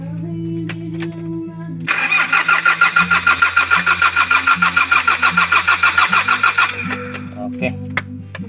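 A Hyundai Porter 2 D4CB diesel engine with a fuel pressure regulator open-circuit fault cranks in a rapid, rhythmic churning for several seconds without catching, with a low tone humming beneath before and after.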